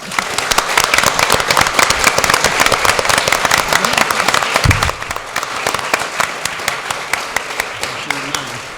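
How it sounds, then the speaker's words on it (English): Audience applause at a League of Women Voters city council candidate forum, a dense wash of many hands clapping loudly throughout, easing slightly in the second half. "Please join me in a round of applause for our candidates."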